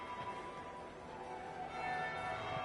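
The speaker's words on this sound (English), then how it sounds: "That would be the second bell." Church bell tolling within Dragon Age Inquisition, a sustained ringing tone with lingering resonance across the whole stretch, steady and moderately loud over a soft ambient bed with no talk.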